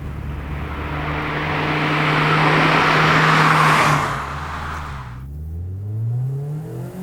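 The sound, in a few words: 2019 Mazda Miata MX-5 RF engine revving in second gear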